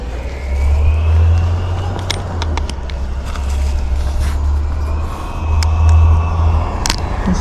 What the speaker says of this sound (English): the garbage truck is coming